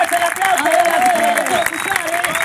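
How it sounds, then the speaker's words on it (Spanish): Audience applause at a live comedy show in Mar del Plata, a steady wash of clapping and crowd noise with a voice shouting over it throughout. "¡Fuerte el aplauso!"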